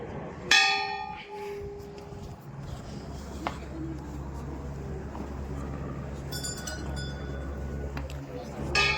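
Bright metallic temple bells clang a few times at the Bhairavnath temple near Kedarnath, short rings with lingering tones, over a low background hum and faint voices.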